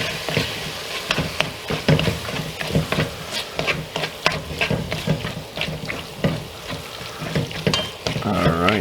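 Meat browning in a pan with herbes de Provence, a steady sizzle broken by repeated scraping stirs, close and fairly loud throughout.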